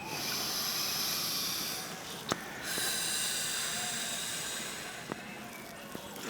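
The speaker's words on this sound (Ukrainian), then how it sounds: "І вдих, видих." Long, audible breaths in and out during a Pilates lateral breathing exercise, a soft steady airy hiss that swells and fades, with no talking.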